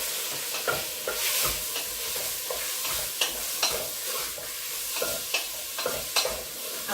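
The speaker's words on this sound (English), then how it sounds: "so we just put in the meat to brown it" Meat browning in a hot pot with a little oil makes a continuous, close sizzle, with irregular scraping and stirring clicks scattered throughout and no talking.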